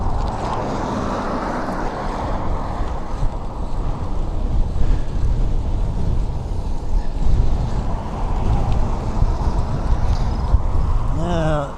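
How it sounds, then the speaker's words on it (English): Strong wind roars and buffets the microphone during a sunset ride on a fixed-gear urban bike beside a wide six-lane road, a loud continuous rumble with traffic noise beneath. "Holy cow, it's windy."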